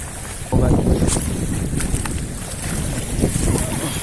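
Strong wind buffeting the microphone during quick casting on open water, a steady loud roar with gusty swells throughout and a few brief knocks, with voices talking over it.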